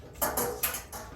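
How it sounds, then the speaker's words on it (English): A whisk stirring lye solution for cold-process soap in a container, giving four quick, close metallic scraping strokes in an uneven rhythm with no talking. "I'll just give it a little final whisk."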